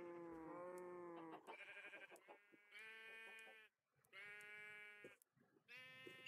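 Repeated bleating from Minecraft sheep, several loud calls in a row with brief pauses between them, clear and close with nothing else over them.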